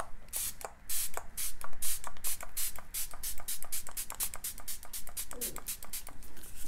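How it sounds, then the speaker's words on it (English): Rapid bursts of a fine makeup setting spray mist, sprayed over and over in quick succession, close and fairly loud with no talking. "I am not shy with setting spray either"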